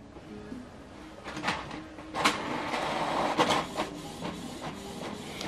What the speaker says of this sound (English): Right now, this document is printing.